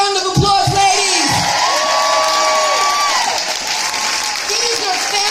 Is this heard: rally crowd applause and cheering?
yes